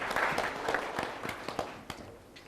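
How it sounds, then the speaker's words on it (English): An audience at an HP and CNBC TV18 panel discussion on the New Style of IT bursts into applause, a dense burst of clapping that gradually thins and fades over a couple of seconds. "A huge round of applause"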